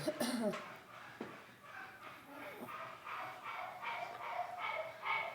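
Faint dog-like yips and whimpering noises come from upstairs, repeating in short bursts for several seconds while someone talks over them.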